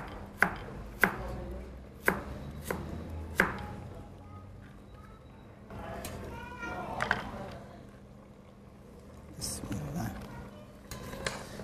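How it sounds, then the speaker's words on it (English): Carrots being chopped with a knife on a board in a home kitchen, a run of sharp distinct chops early on, then softer kitchen noises with a faint cat or child sound in the background. "And then I'm going to chop in some carrots."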